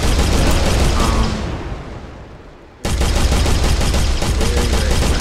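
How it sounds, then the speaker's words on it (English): Dense, continuous rolling explosions and booming blasts in an Unreal Engine 4 game, loud and close, with a brief dip in intensity before the barrage resumes at full force. "we just have a bunch of explosions going on"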